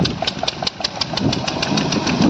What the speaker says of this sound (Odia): ବର୍ତ୍ତମାନ ହ୍ୟାଣ୍ଡିଲ୍ ନେଇକି ଦେଖନ୍ତୁ ପମ୍ପ ଷ୍ଟାର୍ଟ ମାରୁଛି